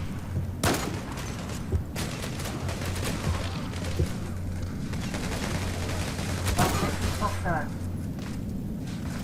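Gunfire in the Zula first-person shooter game comes as a string of sharp shots and short bursts spread through a noisy firefight. Voices talk over much of it.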